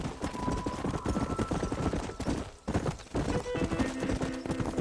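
Horse hooves galloping in the video game Red Dead Redemption, a steady, close clip-clop rhythm that runs throughout over a continuous tonal game backdrop.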